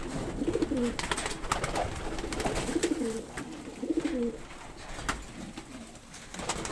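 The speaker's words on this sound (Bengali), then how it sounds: "এই যে দেখেন, আমার কবুতর ছোটাছুটি করতেছে খানার জন্য।" Pigeons coo repeatedly in low, rolling phrases while they jostle for scattered feed, with soft scrabbling and light pecking sounds filling the gaps between calls.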